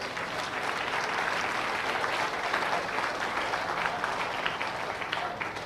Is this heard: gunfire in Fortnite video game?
no